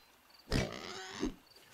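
A pig in a fantasy RPG video game with real-time fights gives a short grunting squeal, one loud burst followed by a softer second grunt, heard alone against quiet game ambience.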